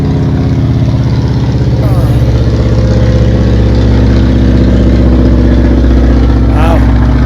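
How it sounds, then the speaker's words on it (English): An old single-engine airplane passes overhead, its loud, steady drone filling the whole stretch without fading. "that's an old single-engine airplane."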